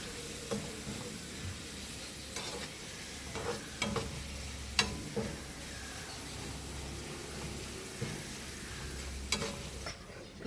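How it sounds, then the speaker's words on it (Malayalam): Papadums frying in hot oil in a pan: a soft, continuous sizzle broken by a few sharp scraping clinks of a utensil stirring and lifting them out, quiet and close. "നമ്മുടെ പപ്പടം എല്ലാം വറുത്ത് കോരി"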